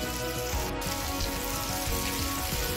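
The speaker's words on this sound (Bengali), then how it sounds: "দিয়ে সব একসাথে ভালো করে আমি ভেজে নেব।" Onion, tomato and slit green chilli with half a spoon of salt sizzle steadily in a pan, a dense, continuous frying hiss with no pauses and no talk.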